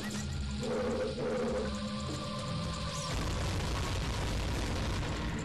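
Bombs explode in The Legend of Zelda: Ocarina of Time Master Quest, dull game booms and pops layered over a droning tonal background, with a sharper burst near the middle.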